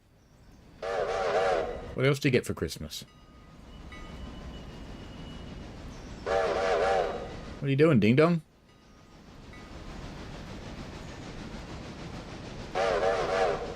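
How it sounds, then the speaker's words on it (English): Steam train whistle in the railroad game Railroader sounds in three loud sustained blasts spaced several seconds apart over a steady rumbling engine, with a voice talking between them. "You keep blowing your whistle."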